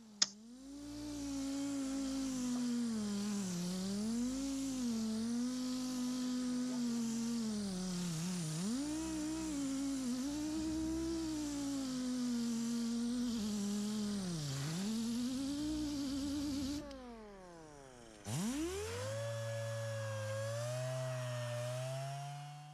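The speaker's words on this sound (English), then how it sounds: "I'm just removing any imperfections on the top of the panel with this sander here." An air-powered sander smooths the bedside panel of a 2020 Chevy Silverado, a loud, close, continuous whine whose pitch wavers with the pressure, briefly stopping and spinning back up near the end, with no talking.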